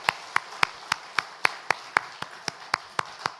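Church congregation at a Sunday daytime service clapping to celebrate members' birthdays, with about a dozen evenly spaced claps in a steady rhythm and little else around them.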